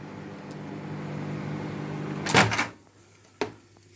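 A microwave oven heating chicken parmo hums steadily at low level, then its door clunks open with a loud rattle, and a sharp click follows a second later.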